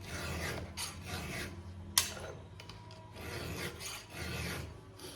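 A worn saw blade with teeth damaged by forks is sharpened by hand file, giving repeated rhythmic raspy strokes close up with brief pauses between passes and one sharp metallic tick.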